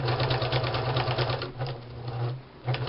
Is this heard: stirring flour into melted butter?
no